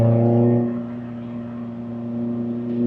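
Supercharged Lotus Elise heard from inside the small sports car: a steady droning engine tone that eases off briefly, then slowly builds again, with no talking.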